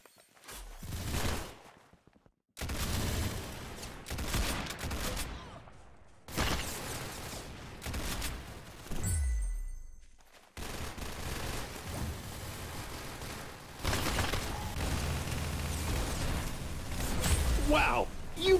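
Rapid bursts of gunfire in the Roblox shooter Arsenal, played on a controller with gyro aiming, come in clustered volleys with brief gaps, loud and close, under excited talk from players.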